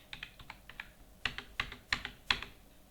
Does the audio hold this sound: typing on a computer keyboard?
yes